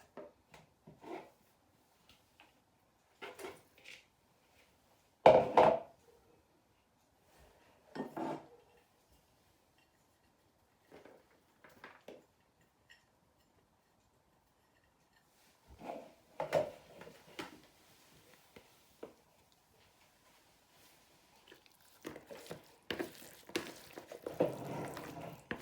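Spring onions and fish being bound into mashed sweet potato for fishcakes, heard as sporadic close knocks, scrapes and clinks of a utensil against a bowl, separated by long quiet pauses and busier toward the end.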